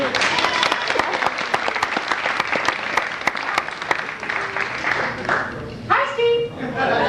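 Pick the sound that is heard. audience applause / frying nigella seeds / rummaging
audience applause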